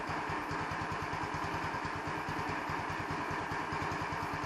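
A 150cc Chinese scooter engine idles steadily and close by with a fast, even chugging pulse and rattly mechanical clatter, running alone with no talk.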